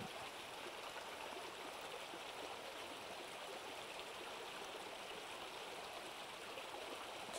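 Steady flowing stream with continuous broadband rushing and gurgling water, even and unbroken throughout, moderately close with no voices.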